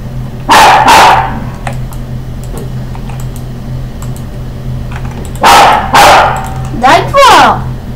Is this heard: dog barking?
yes